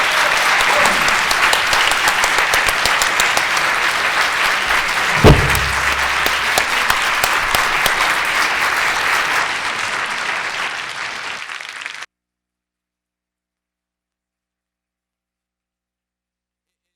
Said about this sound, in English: Can I get a round of applause for our panel?